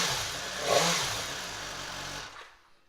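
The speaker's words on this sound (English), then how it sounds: "Let's give it a start up so you can hear that exhaust." A 2017 BMW S1000R Sport motorcycle fitted with an Akrapovic exhaust starts up nearby, giving a short rev that settles into a throaty idle and then cuts off into silence.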